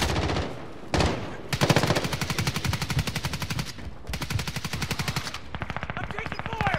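Rapid automatic gunfire from Call of Duty: Modern Warfare multiplayer, loud, dense bursts of machine-gun fire rattling almost continuously with brief gaps between volleys.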